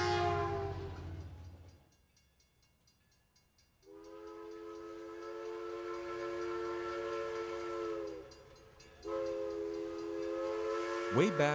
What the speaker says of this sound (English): Way back when our country fell in love with trains, this is what they looked like. And this is what they sounded like.